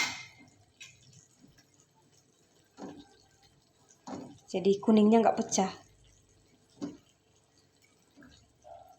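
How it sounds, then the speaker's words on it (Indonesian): Boiling broth is poured over an egg frying in a pan, making short bursts of splashing and dripping mixed with a soft sizzle, while a person talks over it. "Lalu kita siram dari atas dengan kuahnya yang lagi mendidih."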